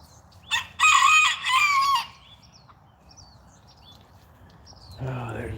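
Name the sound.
rooster crowing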